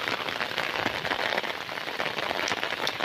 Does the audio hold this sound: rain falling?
yes